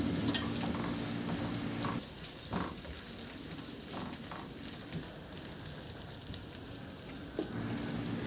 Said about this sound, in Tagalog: Isabay na natin sa paggisa.